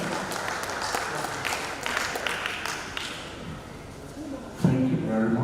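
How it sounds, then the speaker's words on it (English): Audience applause at a Nigerian press week event for a guest representative, a moderate dense patter of many hands with scattered louder claps, easing off near the end as a voice begins speaking. "A round of applause for the guest representative."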